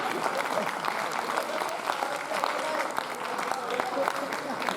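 Audience applause at a Hindi poetry gathering, a steady dense clatter of many hands clapping together for several seconds, with voices murmuring in the crowd underneath.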